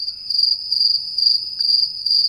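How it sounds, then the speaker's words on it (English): Crickets chirp loudly and continuously in a close, steady pulsing trill, used as a sound effect, with no talking. "Crickets. Nobody cared."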